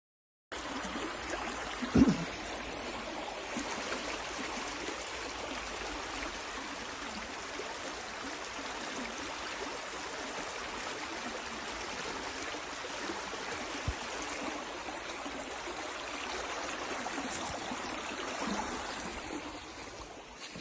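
A river flowing in a wooded spot, heard as a steady broadband wash of running water that holds an even level throughout, with one brief knock near the start.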